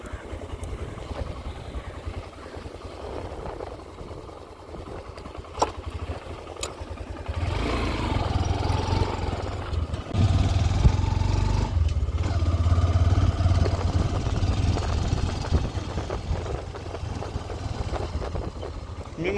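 A motorcycle engine runs steadily along a loose, slippery dirt road on the way to the Wagheshwar Temple, with low rumbling and some rattling clatter from the bike throughout, the engine swelling louder partway through.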